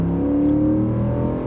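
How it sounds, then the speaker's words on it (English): A Ford F-150 pickup's V8 engine revs steadily and close by, a deep throaty rumble with rich low harmonics that swells slightly and holds for a moment with no voices. "does have that great V8 sound"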